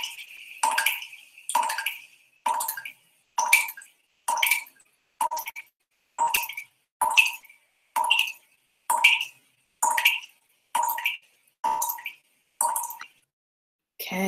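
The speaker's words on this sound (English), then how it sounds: "It was the dripping tap." A kitchen tap drips steadily, about fifteen evenly spaced bright plinks in a row, each a short close drop sound with small gaps of quiet between, alone with no talk.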